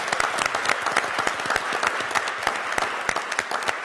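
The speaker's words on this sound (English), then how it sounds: "let's give them a round of applause" Sustained applause from a conference audience, dense rapid clapping at steady loudness throughout with no voices standing out.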